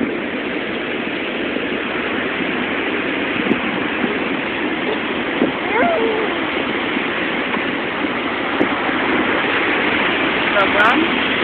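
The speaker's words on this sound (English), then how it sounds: "Say I'm at the beach." Surf at Ocean Beach rolls in as a steady, dense roar that fills the scene without a break, with faint traces of voices underneath.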